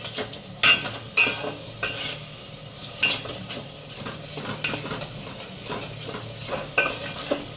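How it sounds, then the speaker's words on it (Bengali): Spice paste (masala) for chicken is stirred and fried in a pan: a soft continuous sizzle under repeated scraping strokes of a utensil against the pot, close and moderately quiet. "তারপর মশলাটা ভালো করে কষিয়ে নিচ্ছে।"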